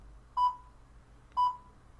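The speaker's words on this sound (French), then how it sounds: "Une fois que la caméra a été réinitialisée, elle va faire deux bips de façon régulière." A Victure SC210 WiFi IP camera beeps after being reset: two short, evenly spaced electronic tones about a second apart, clear against a quiet background.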